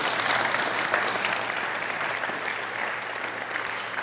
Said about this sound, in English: why don't you give the members of our tremendous panel a round of applause?